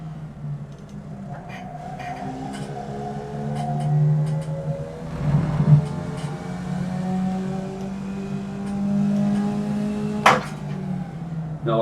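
Formula Vee race car engine revving to high rpm, a sustained harmonic drone that holds steady for several seconds, swells around the middle with a brief knock, then rises again near the end.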